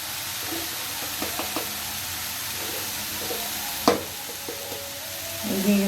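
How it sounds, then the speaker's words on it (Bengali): Banana stem fry being stirred in a kadai with salt and turmeric, soft sizzling under scattered spatula scrapes and knocks against the metal, including one sharper clack midway. "একটু নেড়ে দেবো।"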